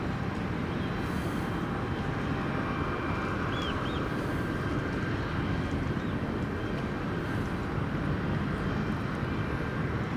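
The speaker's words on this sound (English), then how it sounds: "Oh, there's planes coming in to land." Airplanes come in to land, a steady broadband engine roar that holds at constant loudness throughout, with no talking.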